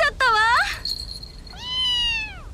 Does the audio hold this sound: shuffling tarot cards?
no